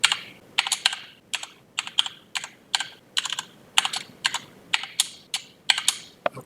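A password is typed on a computer keyboard in short bursts of crisp, close key clicks with brief pauses between groups, alone and fairly quiet.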